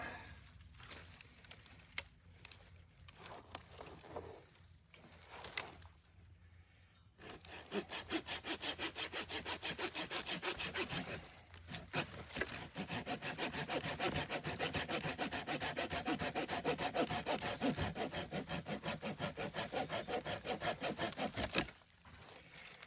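A hand saw cuts steadily through a wooden tree limb being shaped into a natural fork slingshot, with a few scattered bumps and strokes first, then a long run of rapid, even rasping back-and-forth strokes, close and prominent with no talking.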